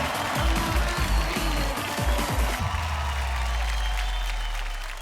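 Studio audience applause on a Hindi TV chat show set, a dense burst of clapping that carries on steadily before tapering slightly, with some overlapping sound beneath it.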